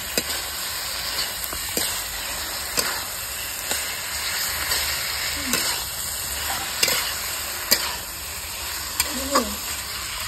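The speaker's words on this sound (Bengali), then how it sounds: "আলু, কচু, কাঁচা কলা ভাজা হয়ে দিয়ে দিচ্ছি বলে, আর গ্রেভিটা রেডি হয়ে গেছে" Potato, taro and green banana frying in hot oil for a fish curry, steady close sizzle with occasional stirring knocks and scrapes of a utensil against the pan, no voices.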